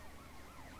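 An ambulance siren in the video game GTA Vice City wails in a continuous rising and falling tone, faint and steady through the short moment with no talk.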